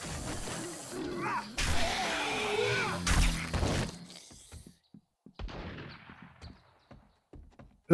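Gunshots fired by the player in 7 Days to Die ring out as a loud burst of shots with crashing impacts, then fade into quieter, scattered sounds.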